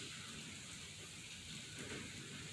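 Continuous rain hisses in a steady, even wash throughout, without voices.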